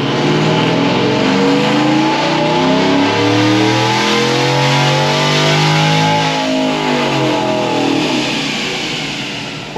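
A 500 hp Chevrolet Tahoe on a chassis dyno, its engine roaring loud and close through a sustained full-throttle pull, the pitch climbing steadily before tapering off near the end.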